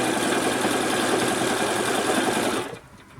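A sewing machine runs at a fast, steady buzz while stitching quilt strips for a layer cake pattern, loud and close, then stops abruptly near the end and leaves a quiet room.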